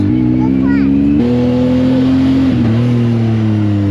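The engine of a Yamaha YXZ 1000 side-by-side, fitted with new brakes and clutch pads, drones loudly and close, its pitch stepping up and then down as it shifts gears.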